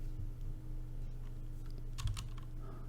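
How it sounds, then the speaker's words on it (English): Keys clatter on a computer keyboard in quiet, fairly soft bursts, with a quick flurry of taps near the end over a low steady background hum. "you need to create a new line and then type in implementation"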